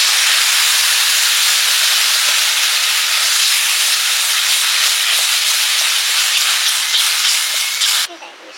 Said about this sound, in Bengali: এবার ডালে ফোড়ন দিয়ে দিচ্ছি।